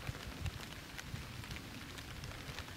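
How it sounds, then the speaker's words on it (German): Rain patters onto the leaves of a chestnut tree along a sandstone hiking trail, a soft, steady hiss with scattered nearby drips and no voices. "Und irgendwie genieße ich gerade den Regen"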